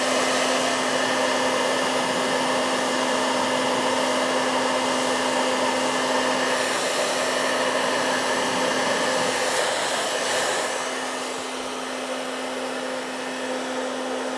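A heat gun or hair dryer blows steadily while heating window tint film from inside a car, a loud constant whirring hiss with a steady hum that eases slightly near the end.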